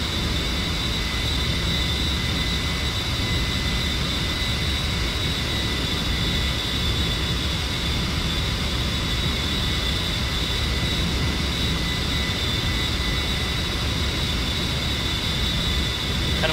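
Steady, continuous jet engine drone of an A-10C attack aircraft in the DCS flight simulator, a constant even whine and rumble with no breaks and no talk.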